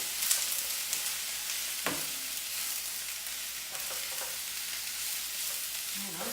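Vegetables for a teriyaki veggie rice bowl sizzle steadily as they heat in a pan, a continuous bright frying hiss with a brief stir or clatter partway through, close and alone with no talk.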